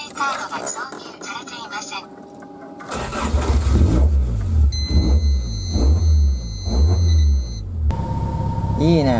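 Toyota AE86 engine fitted with a quad throttle setup, running loud and close with a steady low idle that rises and falls in repeated rev pulses, with a high whine and some talk in the background.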